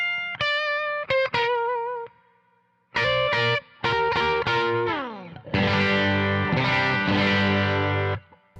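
Electric guitar through a light overdrive pedal plays a few stabbing notes, then fuller lead phrases and ringing chords, loud and saturated with a chorus-like shimmer.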